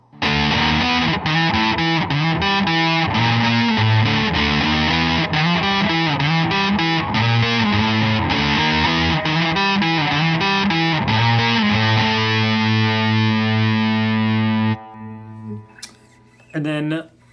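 Heavily distorted electric guitar through a LEKATO Micro FX headphone amplifier plays a dense, buzzing riff continuously at high volume, ending with a held chord and a short burst of noise.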